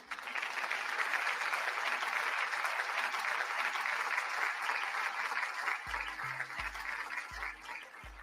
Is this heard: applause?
yes